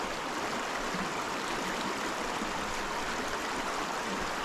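A small mountain creek runs in a steady, close rush of water, a constant broadband babble with no breaks and no voices.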